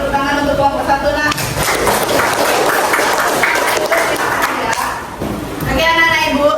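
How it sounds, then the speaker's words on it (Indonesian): Students in a classroom clap for a presenting group, a loud, close burst of many small hands that runs for several seconds and dies out, with a teacher's voice speaking before and after it. "sekarang beri tepuk tangan untuk kelompok 1"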